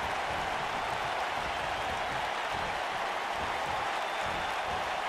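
A wrestling arena crowd sends up a steady, even wash of cheering and clapping, loud and continuous with no individual voices standing out.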